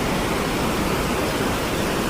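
The swollen Kathe Khola river near an old bridge in Baglung, Nepal, rushes past as a constant, even roar of flowing water, loud and unbroken with no voices.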